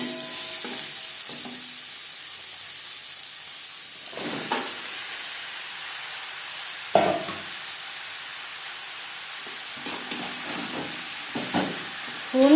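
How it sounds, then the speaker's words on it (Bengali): Dry red chili, green chili and cumin seeds fry in hot oil, a steady low sizzle with occasional stirring scrapes and louder bursts as bottle gourd goes into the pan. "শুকনো লঙ্কা, কাঁচা লঙ্কা ও জিরে ভেজে নেওয়ার পর দিয়ে দেবো লাউ।"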